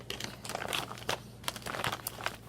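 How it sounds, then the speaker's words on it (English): Packaging crinkles and crackles in irregular bursts, close and moderately quiet, with no talking over it, as yarn purchases are unwrapped during a knitting session. "there's going to be lots of crinkling in this video"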